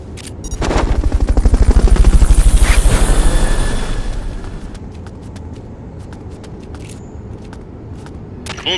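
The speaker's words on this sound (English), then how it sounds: "Fulton recovery subject confirmed onboard helicopter" In Metal Gear Solid Peace Walker HD, the Fulton recovery helicopter gives a loud, rapid rhythmic chopping that swells within the first seconds, peaks, then fades to a quieter, steady pulsing through the rest.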